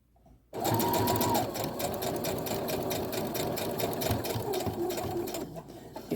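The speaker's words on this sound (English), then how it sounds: "I'm going to back stitch back on and all the way off my fabric" A sewing machine stitches a curtain hem, starting abruptly after a quiet moment and running in a loud, fast, steady mechanical whir, close by, easing off slightly near the end.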